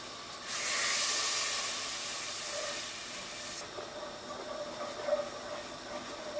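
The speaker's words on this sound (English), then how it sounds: "we're going to cook off the garlic for a couple of minutes in that butter" Garlic cooks in melted butter in a pan, hissing in a loud bright sizzle for a few seconds that then drops to a quieter steady crackle with faint pops, close and without voices.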